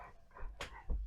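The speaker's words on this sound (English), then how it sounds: "You may hear panting in the background." A dog pants quietly indoors in the background, with a few soft breathy bursts and faint whimpering sounds close to the microphone.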